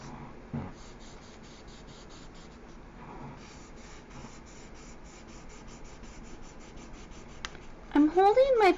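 A colored pencil scratches steadily across paper in close, continuous coloring strokes, with a brief voice breaking in near the end.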